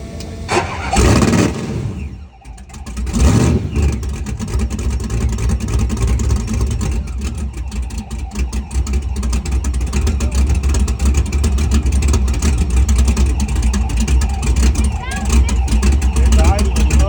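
A land speed record race car engine cranks and fires at Bonneville, then settles into a loud, steady, rumbling idle that continues throughout, with people speaking briefly near the start.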